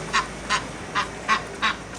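A goose gives five loud, evenly spaced honks, each short and nasal, with brief quiet gaps between them and no voices over the calls.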